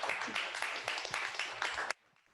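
Audience at a poetry book talk applauding a harmonica player and singer-songwriter, a dense burst of close, lively clapping that cuts off abruptly after about two seconds, leaving near silence.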